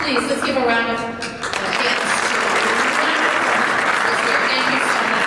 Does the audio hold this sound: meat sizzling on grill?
no